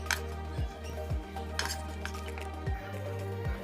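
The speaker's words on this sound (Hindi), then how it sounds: "और अब इनको अच्छे से मिक्स कर लेंगे" A spoon clinks and scrapes against a bowl while garam masala and other spices are stirred into a filling, giving soft repeated metallic taps over a low steady hum.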